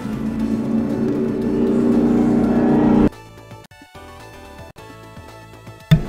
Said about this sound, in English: I'm sorry about all these motorcycles, dude